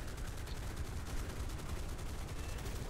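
Cannon rounds fired at an enemy vehicle in War Thunder, a continuous rattle of rapid shots under engine and battle rumble, steady and fairly close with no break.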